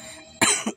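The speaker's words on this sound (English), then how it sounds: "Sorry, you had a cough?" A single short cough, sharp and close, following a brief quiet hum.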